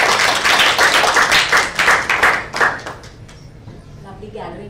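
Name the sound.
audience applause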